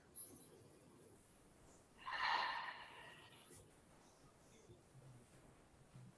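A single audible breath, a soft whooshing exhale, rises briefly during a quiet yoga hip-opening sequence and then fades back to near silence.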